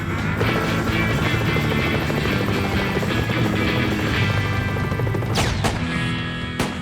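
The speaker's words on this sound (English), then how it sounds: "Choppers arrived, picked us up, and we had an escort of 2 gunships" Military helicopters arrive with a gunship escort in Vietnam, and their rotors thump loud and steady throughout. A few sharp bangs ring out near the end.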